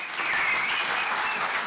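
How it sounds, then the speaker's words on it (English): Brief burst of audience applause for Josephine and George at a celebration of Pheroze Nowrojee, loud, dense clapping from a crowd. "Another big round of applause for Josephine and George."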